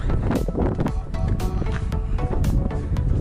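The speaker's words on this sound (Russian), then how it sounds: "Эх, ветер очень сильный сегодня." Strong wind buffets the microphone outdoors in Yakutsk, by a lake with ice sculptures and slides, with a constant low roar and rumble, a harsh gusty noise filling the whole stretch.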